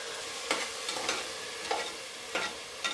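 Chopped tomato is being sautéed with onions in a pan for a country chicken curry. A steady low sizzle runs throughout, broken by several sharp scraping stirs of a spoon against the pan, roughly one every half second to second, with no voices.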